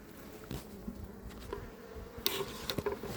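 A steady honeybee buzz hums low throughout from an open, heavy hive with drones, with a few louder, brief rises and crackles near the end, close by.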